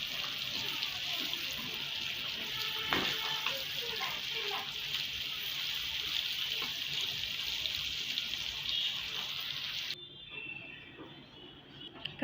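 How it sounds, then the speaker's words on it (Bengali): Spiny gourd (kakrol) frying in oil in a pan, a steady loud sizzling hiss that runs throughout and drops suddenly near the end. "সবগুলো কাঁকরোল এভাবে ভেজে নেব।"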